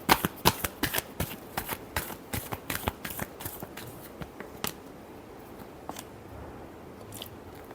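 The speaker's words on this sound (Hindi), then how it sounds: "last shuffle" Tarot cards being shuffled up close, a rapid run of sharp riffling flutters and snaps that thins out into a few scattered taps, quiet and with no talk.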